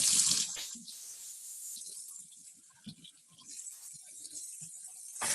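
A kitchen tap runs water over a fork being rinsed, a faint splashing hiss with brief clinks and soft knocks of the fork against the water stream and sink.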